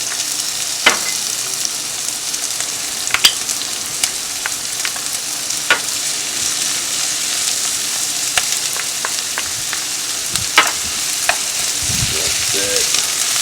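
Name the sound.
onions, celery and peppers sweating in a pan for jambalaya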